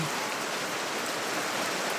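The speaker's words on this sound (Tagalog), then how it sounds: "ang lakas ng ulan" Heavy, steady downpour roaring continuously like dense rain drumming on surfaces, loud and close, with no pauses or voices.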